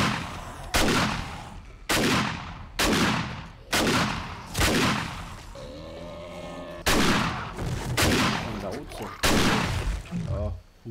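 Gunshots in the video game 7 Days to Die ring out as loud, sharp single blasts spaced about a second apart, each with a ringing decay, with a brief pause midway filled by a tonal in-game sound.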